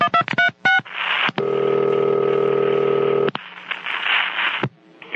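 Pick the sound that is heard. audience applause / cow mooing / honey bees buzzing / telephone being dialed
telephone being dialed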